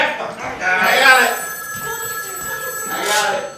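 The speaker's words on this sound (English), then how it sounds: "Answer the phone!" A telephone rings loudly in a taxi company office, its bell trilling under people talking over it.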